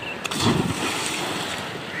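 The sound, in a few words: splash of a person jumping into canal water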